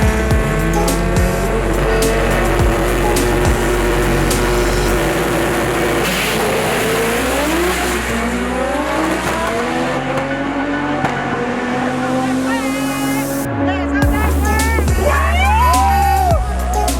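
A loud drag race car roars and accelerates hard down the strip through its gears, engine pitch climbing repeatedly as it blasts away, with faint crowd noise underneath.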